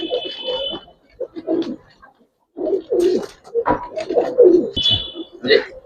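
Pigeons coo in soft, throaty bursts at a pigeon farm, close by, with people talking among the calls and a few higher chirps cutting through.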